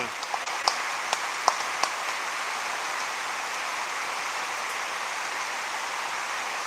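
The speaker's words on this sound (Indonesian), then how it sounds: "Hujan guys, hujan." Steady rain falling outside a house, a dense even hiss with a few sharp drips and taps in the first seconds, constant and moderately loud throughout.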